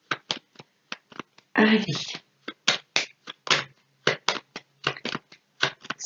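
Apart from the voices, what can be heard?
playing cards being laid down on a table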